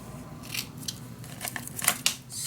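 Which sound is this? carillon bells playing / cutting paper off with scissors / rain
cutting paper off with scissors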